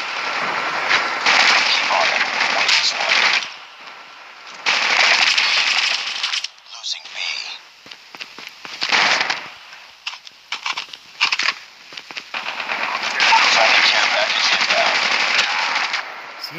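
Gunfire in a 5v5 Domination match of Call of Duty Mobile: repeated bursts of rapid automatic fire, loud and close, broken by short pauses and scattered single shots, with a voice speaking between bursts.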